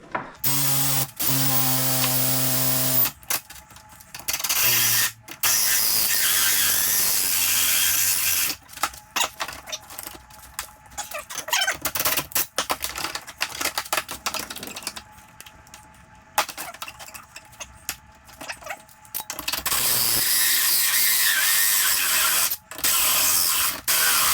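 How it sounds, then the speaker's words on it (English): A Milwaukee wood hole saw grinds and whines through 3/8-inch steel plate in long bursts, with harsh rasping and stops between passes, close and loud. "That is 3/8 plate that this Milwaukee wood hole saw bit is drilling through"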